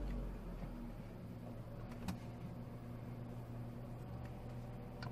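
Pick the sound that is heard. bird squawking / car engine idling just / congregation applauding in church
car engine idling just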